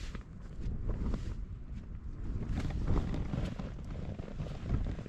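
Strong, steady wind gusts across an exposed hillside at a winter wild camp, roaring and buffeting the microphone with low rumble throughout and surging slightly louder in places, with no talking.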